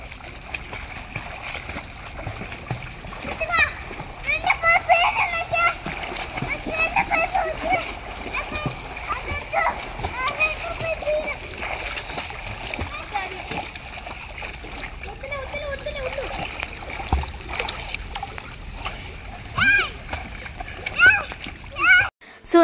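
Children splash while swimming in a hotel pool, with irregular slaps and sloshes of water beneath a lot of lively kids' chatter and adult talk throughout.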